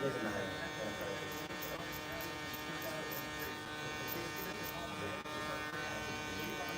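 An electric hair clipper buzzes steadily and continuously while cutting hair during a haircut, a close, unbroken whirring drone with a person talking over it.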